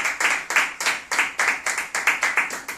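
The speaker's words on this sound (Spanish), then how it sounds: "Les vamos a dar un aplauso a nuestro público." Rhythmic, closely synchronized clapping from a studio audience at a talk on diabetes and obesity, with sharp, evenly spaced beats that stay steady and close throughout.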